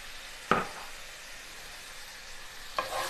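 Garlic and dried thyme stirred in a hot pan, two brief scraping stirs near the start and end over a steady low sizzle.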